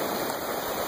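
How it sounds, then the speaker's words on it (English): Waves washing onto a sandy beach make a steady, broad hiss of moving water that stays fairly close and even throughout, with no voices. "The water and the sand down there. And the sound is oh so relaxing."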